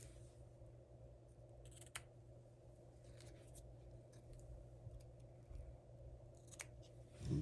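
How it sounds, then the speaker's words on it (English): Scissors snip the ends of ribbon tied to a paper tag, a few quiet, sharp, separate cuts over a low background hum, close and faint. "Then we're going to take our scissors and trim the ends."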